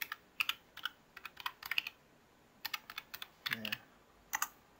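Bursts of crisp, close key clicks from a Hexgears X1 low profile RGB mechanical keyboard, typed in short quick clusters with brief gaps between them.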